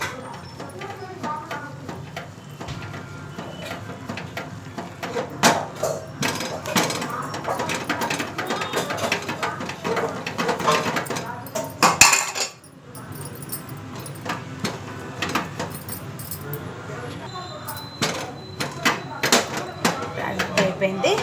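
Ragi flour is stirred into boiling water in a pot, making a busy scraping, knocking rhythm of a utensil against the pot that runs throughout, with someone talking over it.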